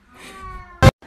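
A pet cat gives a short, close meow-like vocal sound over a quiet room with faint background murmur, followed by a brief burst of noise near the end.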